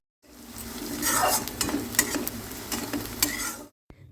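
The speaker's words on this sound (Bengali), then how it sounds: "লঙ্কার পেঁয়াজটাকে একটু নেড়ে চেড়ে ভেজে নিতে হবে" Chopped onion and green chili fry in hot oil in a pan while being stirred, giving a close, steady sizzle broken by scraping spatula clinks, then stopping abruptly.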